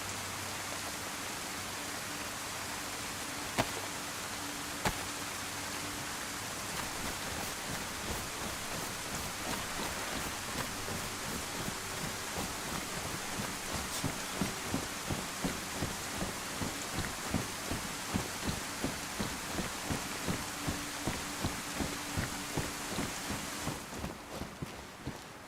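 Rain in the video game DayZ: steady hiss of rainfall patters on surfaces, soft and continuous, with a few faint clicks and a rhythmic pulsing thump building up in the later part.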